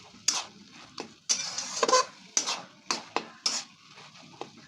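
Shrimp khosha bata, a Bengali dish of ground vegetable peel cooked with chingri prawns, is stirred and mixed in a pan, giving close, rhythmic scraping and clattering spatula strokes over a faint sizzle with no talking.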